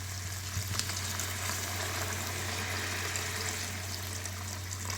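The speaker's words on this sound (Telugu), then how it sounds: "ఇలాంటప్పుడు వాటర్ వేసుకోవాలి." Water added to a curry cooking in a pot on the stove gives a steady, fairly loud hiss and bubbling wash over a low hum, continuous throughout with no talk.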